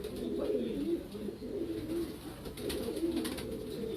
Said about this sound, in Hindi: ये लाल जालदार कबूतर हैं।